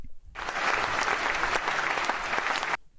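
Dense applause from a crowd, steady and loud for about two and a half seconds after a brief quiet start, then cutting off abruptly.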